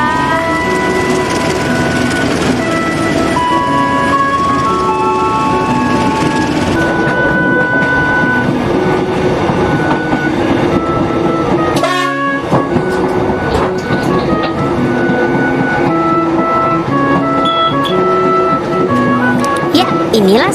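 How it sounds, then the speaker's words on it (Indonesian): A coal train hauled by a CC201 locomotive rolls through a station, a loud, continuous rumble with rhythmic wheel clatter and squealing tones, close and sustained, with a brief sharp clunk partway through. "kereta batubara yang ditarik loko CC201 melewati stasiun ini"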